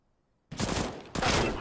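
Two sharp gunshot bursts in Counter-Strike on the Anubis map during an esports match, the first after half a second of near silence and a second close behind, loud and broadband with no talk.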